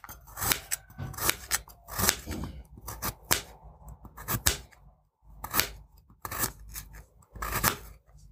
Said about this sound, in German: fange ich jetzt schon mal an mit Schneiden